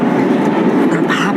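A passenger train rumbles steadily and loudly from close by, a continuous dense roar with faint rattling and no clear voices.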